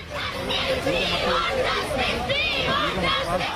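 A crowd of students on a college campus chanting and shouting slogans in a hijab protest, many voices overlapping in a loud, continuous, nearby roar of rhythmic calls.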